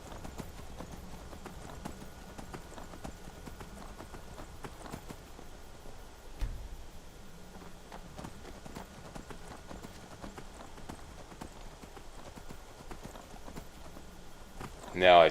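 A horse's hooves pound steadily in Skyrim during a ride, a continuous rhythmic clip-clop beneath a voice, with a brief thump midway and a louder burst at the end.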